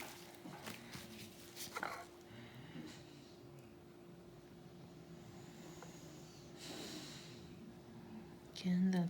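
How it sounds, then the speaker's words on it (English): A dog snorts and whimpers faintly indoors in a quiet room, with short breathy snuffles and a brief whine near the end, alongside a steady low hum. "Again, that's my dog."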